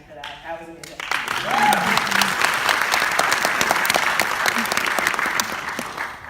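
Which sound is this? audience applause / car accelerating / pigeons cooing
audience applause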